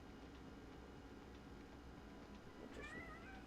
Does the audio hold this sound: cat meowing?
yes